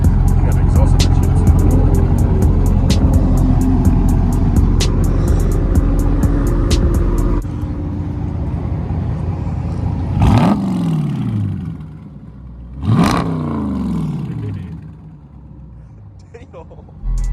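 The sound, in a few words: car exhaust revving at a supercar meet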